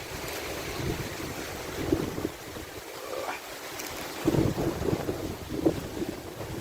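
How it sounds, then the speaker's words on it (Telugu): A dusty windstorm in Saudi Arabia roars past as steady buffeting wind noise, with louder gusts surging near the end and no talk. "ఈరోజు సౌదీలో దుమ్ము గాలి బీభత్సంగా"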